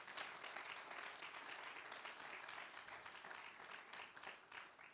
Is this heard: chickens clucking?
no